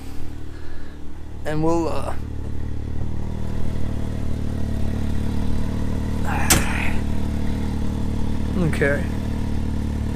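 A 2022 Can-Am X3 DS Turbo engine idles steadily while warming up, a constant low drone with a few brief revs and clatter spikes, close by, as someone speaks briefly over it.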